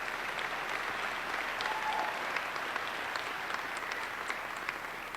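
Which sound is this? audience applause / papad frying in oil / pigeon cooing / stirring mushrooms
audience applause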